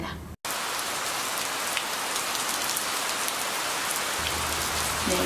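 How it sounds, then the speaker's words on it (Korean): Steady rain falls with a dense, even hiss of drops striking surfaces, continuous and fairly close throughout, with only a brief dropout near the start and no voices. "비가 오는 날입니다."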